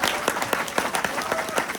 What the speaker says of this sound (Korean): 이해가 되면 박수.